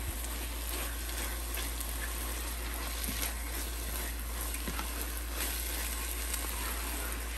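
Pear and bottle gourd halwa being stirred with ghee in a pan, a steady close sizzle with soft scraping and stirring strokes running throughout, no voices.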